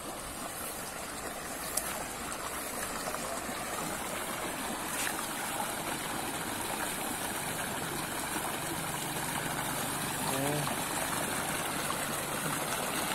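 Clear spring water flows through a rice field channel in a steady, soft rush, with a faint engine hum in the background and no talking.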